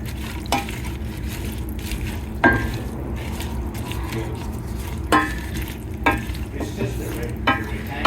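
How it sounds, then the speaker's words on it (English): A spoon stirs a small batch of vegan collard greens in broth with a steady wet sizzle, giving periodic scraping and sloshing strokes at close range. "just mix it up, stir it, make sure there's enough liquid in here"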